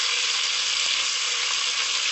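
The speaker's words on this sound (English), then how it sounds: "Now you let the cumin fry for about 1/2 minute in the oil" Cumin seeds frying in hot oil for a Jamaican chicken curry, a steady, close, bright sizzle that holds evenly throughout with no talking.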